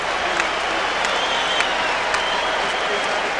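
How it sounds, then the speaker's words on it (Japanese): A boxing arena crowd roars for An Kyung-duk after he survives the second round against Julio César Chávez: a continuous, loud wash of cheering and clapping with a few sharper claps standing out. "これは頑張ったアンギョンドクへの歓声でしょうかね。 大きな歓声が湧きましたが"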